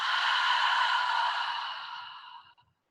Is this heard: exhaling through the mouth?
yes